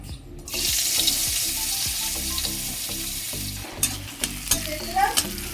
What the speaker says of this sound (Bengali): কড়াইতে তেলের মধ্যে পেঁয়াজ ফোড়ন দিয়েছি আর লঙ্কা দিয়েছি